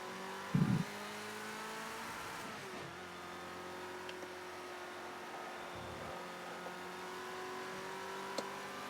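A Ford Escort RS1600 in Project CARS 2 races with a steady, buzzing engine drone held in a gear, a brief louder burst near the start and some faint tire and gear noises, with no voice.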